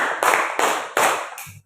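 A classroom group claps in unison, four sharp, loud claps at a steady rhythm, the last one lighter, with a faint murmur at the end.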